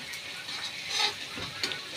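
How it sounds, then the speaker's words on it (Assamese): Onions fry in a pan while meat curry is being cooked, giving a soft continuous sizzle with brief louder hisses and stirring, no voices. "মোৰ পিয়াজ ভাজা হলে ব্ৰাউন কালাৰ হোৱালৈ ভাজিম মই পিয়াজ"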